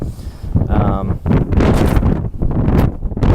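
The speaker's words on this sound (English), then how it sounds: "It's a little windy, I apologize if there's some noise" Heavy wind buffets the microphone in loud, low rumbling gusts, mostly masking a person speaking underneath.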